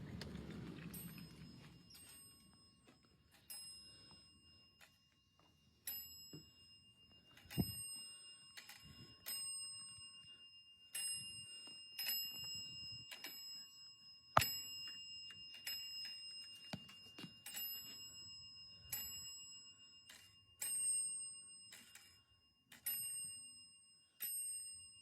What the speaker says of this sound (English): This haunted phone rings without power.